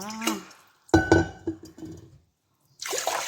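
Water is poured into a pot while preparing mahalabiya custard. A few clinks of dishes come first, and a steady rushing pour follows near the end.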